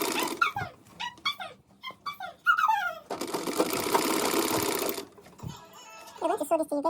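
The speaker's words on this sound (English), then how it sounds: "So I'm just going to start sewing this" A sewing machine stitches sundress fabric, a steady close mechanical whir running for about two seconds between stretches of someone talking, with a short burst of stitching again near the end.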